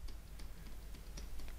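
Soft, faint clicks of computer keys being pressed, scattered irregularly over a low background hum.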